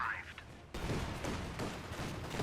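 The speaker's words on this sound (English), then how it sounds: "And repeated cannon fire, there we go" Repeated cannon fire in a real-time strategy battle between Soviet and German armies, heavy booming shots landing in quick succession with a dense, continuous rumble of battle noise, no talk heard.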